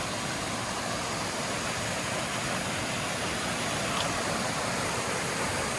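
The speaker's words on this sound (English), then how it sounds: "There's the top of the waterfall." A steady, broadband roar of falling water from the top of a waterfall on the Appalachian Trail in southern New York, constant and fairly loud, with no voices or breaks.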